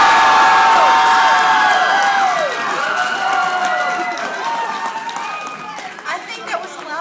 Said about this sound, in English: I think that was the loudest cheer yet.